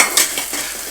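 Maggi noodles are stirred in a frying pan with a brief scrape, set against a loud, continuous sizzle of oil heard up close.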